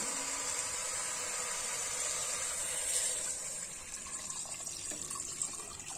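Water pours steadily into a pressure cooker holding chicken feet, a loud continuous gushing splash that softens slightly toward the end as the level rises.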